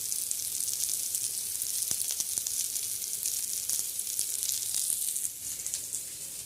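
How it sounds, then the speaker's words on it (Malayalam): Chicken fries in a pan with a steady, bright sizzle and scattered small pops and crackles, heard close and alone for several seconds. "ചിക്കൻ ഇവിടെ ഫ്രൈ ആയിട്ടുണ്ട്"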